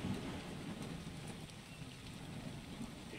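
Heavy rain pours down in the survival game ARK on the Ragnarok map, a quiet steady wash of falling drops and hiss, without voices.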